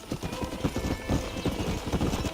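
Horse hooves clop in a steady trotting rhythm in a video game, close and continuous over a soft background hiss, with no voices heard.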